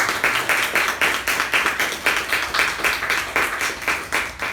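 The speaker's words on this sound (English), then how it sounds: "Let's give a thunderous round of applause." Rhythmic audience applause at a Toastmasters club meeting, claps falling into a fairly even pulsing beat, steady and close, with no talking over it.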